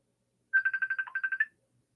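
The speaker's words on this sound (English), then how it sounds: "getting a phone call" A phone ringtone plays for an incoming call: a rapid electronic trill of about ten evenly spaced pulses lasting roughly a second, clear and alone with no voices.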